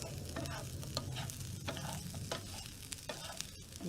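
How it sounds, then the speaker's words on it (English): Nettles and chickweed cooking in a pan with a little salt, stirred by a utensil, giving soft scraping and gentle sizzling that repeats steadily at close range with no talk. "Let's give it another stir."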